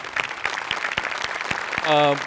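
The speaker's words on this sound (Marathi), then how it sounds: "त्यामुळे एकदा दिग्दर्शकांसाठी पण टाळ्या" An audience claps for the directors at a Marathi comedy show taping, a run of sharp distinct hand claps mixed with room noise, ending in a brief tonal musical sting.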